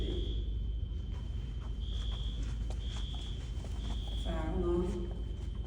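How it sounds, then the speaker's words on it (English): Fire alarm beeping in intermittent steady tones during a residents' community meeting, faint against room noise and low murmuring, with a brief voice near the end. "Fire alarm."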